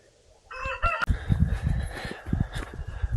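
A rooster in a garden crows once, close and loud, with a short harmonic call, followed by rustling and thumping handling noise.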